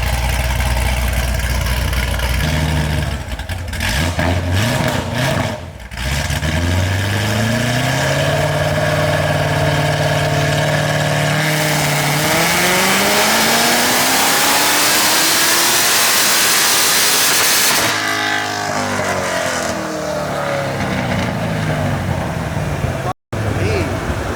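A loud supercharged, cammed Corvette C7 Z06 engine on methanol idles roughly, then revs up repeatedly with rising whine and roar, with voices talking over it at times.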